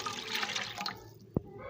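A large cup of water is poured into a cooking pot that already holds garlic and vinegar for Egyptian koshari: a faint, brief splash of running water lasting about a second, ending with a soft knock.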